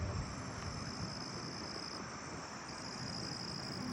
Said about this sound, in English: Oh, I'm hearing the forest scaly crickets